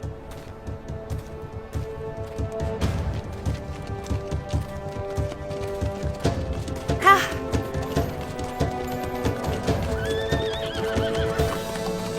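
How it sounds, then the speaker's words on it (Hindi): Several horses neigh and whinny as they are led out, with a steady clip-clop of hooves under layered drama music and some talk, in a historical Ottoman-era tribal camp setting. "घोड़े निकालें।"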